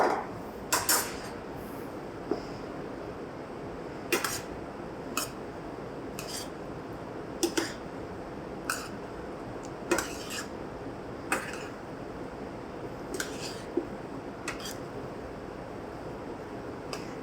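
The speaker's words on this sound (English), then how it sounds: "Now I'm adding them to the mix, and then I'll give this a stir." Metal utensil knocking and scraping in a pan as pinto and black beans are stirred into a mixture, a series of sharp clinks spaced every second or so over a quiet background.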